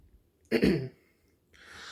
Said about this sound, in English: Sorry if I keep on clearing my throat, guys.